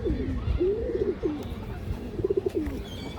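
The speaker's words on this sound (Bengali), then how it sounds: "ফুল রিং চোখের কবুতর দর্শক।" A full ring-eyed pigeon coos close by in repeated low, throaty rolling phrases, with short pauses between them. Soft rustling fills the background.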